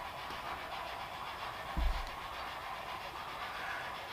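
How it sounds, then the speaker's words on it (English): A model train runs on a home layout, giving a faint, steady rolling hum with one soft thump partway through and no voices. "I'm going to put some trains on here."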